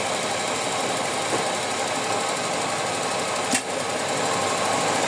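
A Toyota 4AFE car engine idling with the air conditioning switched on, a steady, even mechanical hum with fine rapid ticking, close and fairly loud, broken by one brief sharp clack, with no talking.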